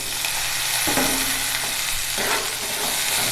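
Pre-cooked eggplant sautés in hot oil with a steady, close sizzle, broken by two or three scraping stirs of the pan.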